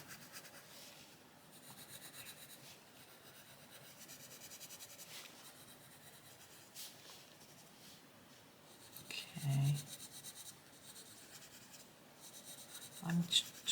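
A Koh-I-Noor Polycolor coloured pencil colours on paper with a soft, continuous scratchy rubbing, quiet and close, broken by a couple of brief louder knocks toward the end.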